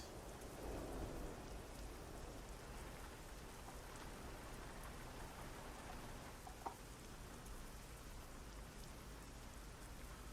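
Steady rain pours in the truck-driving game Euro Truck Simulator 2, a dense, even hiss of drops on the cab filling the whole stretch with no voices.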